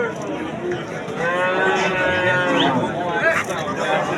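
A cow moos in a long, drawn-out call at a livestock market in Sirdaryo district, amid crowd chatter and someone talking nearby.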